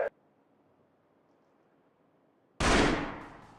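A starting pistol cracks once for a 300-meter dash at an outdoor track meet, a sudden loud bang that decays with a ringing tail after a near-silent pause.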